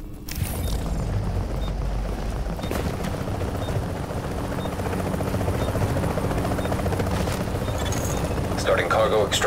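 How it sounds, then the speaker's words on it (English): An in-game helicopter from The Division arrives with a loud, steady rotor roar and engine drone that fill the whole scene, with game effects mixed in. "Chopper is inbound."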